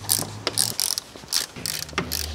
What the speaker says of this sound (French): avec un embout de 10, on va déposer les 6 écrous ici